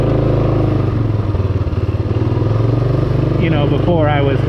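A used Rokon motorcycle with a burnt clutch idles nearby with a loud, steady, throbbing rumble while someone talks over it.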